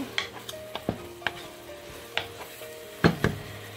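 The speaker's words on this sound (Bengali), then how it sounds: "দিয়ে দিচ্ছি কাঠবাদাম এবং পেস্তা বাদাম কিছুটা দিয়ে সব কিছু খুব ভালো করে আবারও মিশিয়ে নিচ্ছি" Zarda sweet rice being stirred together with raisins, almonds and pistachios in a pot, giving several separate soft scraping knocks of a spoon through the grains, fairly close and alone with no talk.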